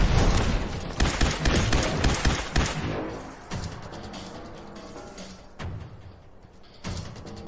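Rapid bursts of gunfire from a quick-firing weapon in Fallout 4, loud and close, with dense volleys at first that thin into scattered shots and booms.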